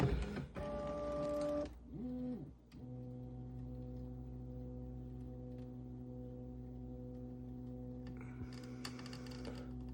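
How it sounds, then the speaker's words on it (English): A Bambu Lab A1 3D printer homing its axes, stepper motors whining in sustained tones, shifting pitch in short moves before a long steady hum, with faint clicks toward the end. "Now you'll watch this printer carefully home itself."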